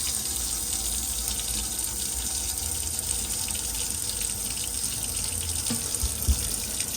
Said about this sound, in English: open the tap and you get a pressurised flow of water